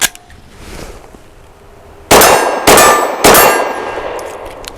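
A Glock factory 17-round magazine sliding out of a BUL Armory Axe FS Cleaver carbine, preceded by a quiet click, then three loud sharp metallic clangs in quick succession as it drops and hits a hard surface nearby.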